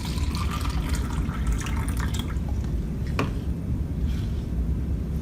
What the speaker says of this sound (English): So tomato wash with tap water.